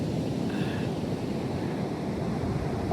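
Sea waves and wind at the seaside make a steady, broad rush of surf and breeze that stays loud and constant throughout, with no voices heard.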